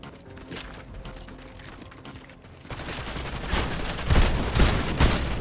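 Machine pistol gunfire in Fortnite Ballistic: rapid bursts of shots that grow louder and denser in the second half, with sharp repeated cracks near the end and no speech.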